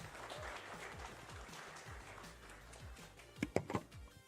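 Audience applause at a university game jam presentation event, a dense steady patter of many hands clapping that continues through the clip, with a few louder sharp claps near the end.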